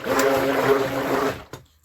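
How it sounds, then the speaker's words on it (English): Thick shea butter soap batter made with kombo butter pours into a wooden heritage mold, a steady gloopy, rushing flow for over a second that stops abruptly, followed by a brief tap. "All I got to do is pour it in my workshop heritage mode."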